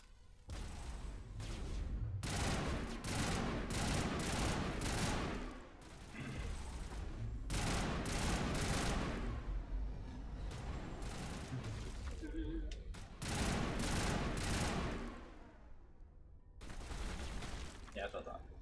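Shotgun fire in Mass Effect Legendary Edition combat: heavy blasts in repeated bursts separated by short pauses, loud and booming, with talk running under the shots.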